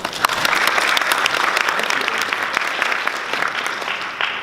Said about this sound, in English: give an applause and welcome Eric Rosenberg